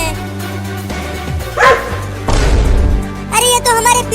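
A cartoon dog barks and yips loudly in several bursts, mixed with music and a character's voice.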